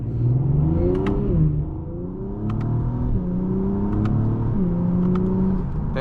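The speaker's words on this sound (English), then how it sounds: "That engine sounds so good." A 2025 Acura TLX Type-S engine revs loudly and close by, its pitch climbing and dropping through several sustained pulls over about six seconds, with no talking.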